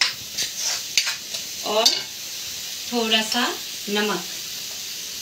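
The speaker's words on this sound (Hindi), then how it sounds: "दो चम्मच गाजर डालूंगी, हल्का सा फ्राई कर रहा हूँ" Carrots frying lightly in a pan in a home kitchen, a continuous soft sizzle with stirring scrapes and clicks, while someone speaks briefly over it.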